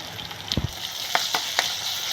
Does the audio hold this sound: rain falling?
no